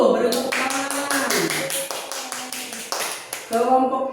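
Classroom children clapping for a group in rapid, even, close claps, about a dozen sharp strikes over a few seconds, with a voice speaking over them.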